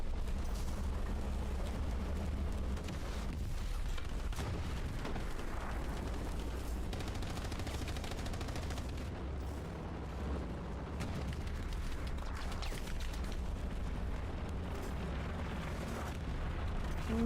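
Incoming artillery rounds exploding on a video game battlefield, a dense, continuous rumble of blasts and gunfire that stays loud and steady throughout with no clear gaps.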